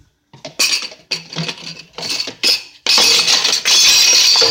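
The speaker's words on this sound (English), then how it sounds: "So let's get our strainer." A small metal kitchen strainer handled and knocked about: a run of clattering metallic clinks and rattles in separate bursts, then a denser continuous scraping rattle, close and fairly loud.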